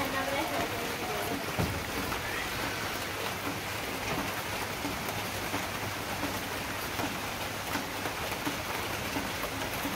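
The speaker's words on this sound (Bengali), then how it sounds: "এই দেখেন বৃষ্টি কিন্তু যায় না, বৃষ্টি কিন্তু আছে" Steady rain falls on a Bangladeshi village during the rainy season, a constant dense hiss of drops on surfaces with a low hum, while a person talks faintly beneath it.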